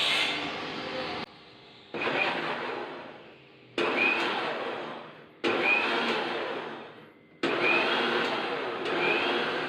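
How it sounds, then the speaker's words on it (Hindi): A kitchen mixer grinder run in short pulses whips cake batter of butter, oil and eggs: five loud whirring bursts of a few seconds each, separated by brief pauses, with no talking. "और अब इसको ना एक बार मिक्सर में चला लेते हैं।"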